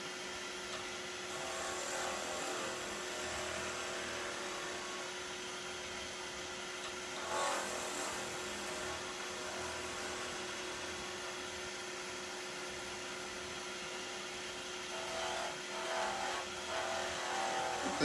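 A wood lathe spins during pen turning, giving a steady, moderately quiet motor whir that holds evenly for the whole stretch, with a couple of brief swells of louder hiss.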